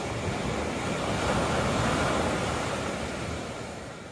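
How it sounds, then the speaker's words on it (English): Gentle waves lap against the shore at Latigo Beach at night, a soft continuous wash that swells in the middle and slowly fades, with no one speaking. "The lapping of the water against the shore is one of the most comforting sounds I know."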